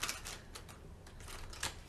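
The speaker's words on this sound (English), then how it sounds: "So we're going to clarify with the Witch's Tarot. Maybe. I don't know. Doesn't seem to want to shuffle very well." A deck of Witch's Tarot cards is being shuffled, giving soft, quiet riffling and tapping bursts in an irregular rhythm with no talking.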